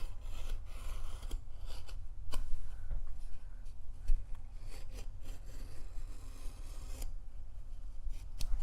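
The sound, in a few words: knife cutting drywall patch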